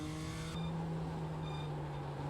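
GT sports car engine in iRacing at Lime Rock Park, a steady sustained drone with a strong low tonal hum and a brief shift in pitch early on, loud and continuous with no talk.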